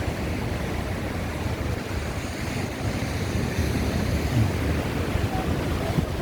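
Heavy sea waves crash and roll continuously along the East Sea coast under a cloudy sky, forming a loud, steady roar mixed with wind buffeting the microphone.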